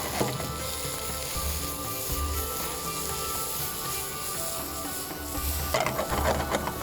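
Onions sizzling in a pan with salt as they are stirred, a steady close frying hiss broken by repeated scraping strokes, with no one talking.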